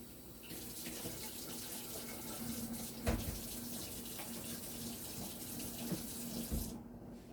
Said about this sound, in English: Washing up all these weird hooks.